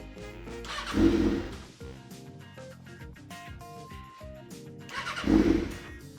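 A 2019 Kawasaki Ninja ZX-6R with an M4 exhaust and a Power Commander V cranks and struggles to start, with two loud whirring starter surges and sputtering, uneven engine noise between them, close up.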